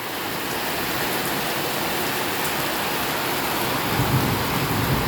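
Heavy rain pours down steadily in a dense, continuous roar beside a swimming pool, close and loud, with a slight swell near the end.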